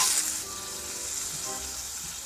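Steak for a Chilean churrasco sandwich sizzles in a pan over medium heat, a steady crackling hiss with faint pops that carries on without a break. No voices.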